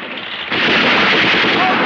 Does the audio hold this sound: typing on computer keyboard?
no